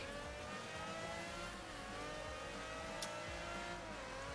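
A Lamborghini engine in the racing game Project Gotham Racing 3 drones steadily at high revs throughout, with a faint rise in pitch and no talking.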